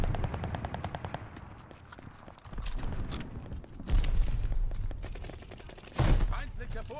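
Rapid gunfire in Call of Duty Vanguard multiplayer, bursts of automatic fire with louder blasts near the middle and end over a busy battle din, with players talking over it.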